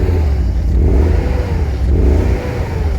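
A BMW E38 740i V8, misfiring and not running on all eight cylinders, revs up and down in two loud swells with a rough, uneven low rumble, heard close and alone.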